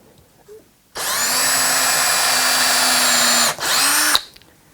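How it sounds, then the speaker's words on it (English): A power drill fitted with a 2mm bit whines steadily at high pitch for about three seconds, briefly eases off, then spins up again before stopping, close and loud while drilling into a guitar body blank. "2mm drill bit"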